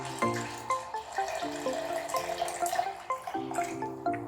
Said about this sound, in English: we're going to pour our whole 1 cup of milk right into the mixing jar